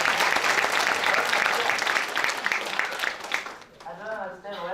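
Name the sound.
audience applause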